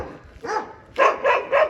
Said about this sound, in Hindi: ऐसे कुत्ते भौंकेंगे जैसे अभी मुझे भौंक रहे, खतरनाक कुत्ते हैं